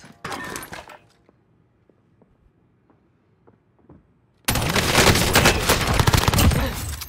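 Loud sustained automatic gunfire from Call of Duty Warzone, with a short burst at the start, a near-silent gap, then a dense unbroken barrage filling the last few seconds.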